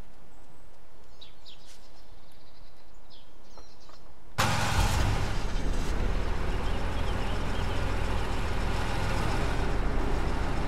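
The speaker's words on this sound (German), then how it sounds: "Ich pack mal eben meine Karre da rein." A car driven into a garage in DayZ Origins: after a quiet stretch the engine roars in abruptly, a loud, steady, rumbling drone running close and constant to the end.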